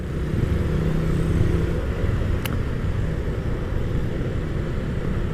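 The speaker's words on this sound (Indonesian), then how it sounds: "kalau belum ganti oli itu kasar banget sih suara mesinnya" A motorcycle engine running rough from an overdue oil change rumbles steadily and continuously at night near a town square, a coarse low drone with one brief sharp tick midway.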